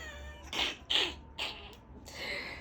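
A cat indoors gives three or four short meows in quick succession, fairly soft and close, during a home hair-braiding session.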